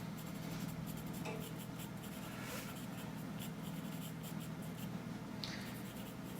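Colored pencil scratching steadily across paper in close, quiet strokes, drawing the fur of an antelope with a bird on it, continuous soft rubbing with a few brighter scrapes and no voices.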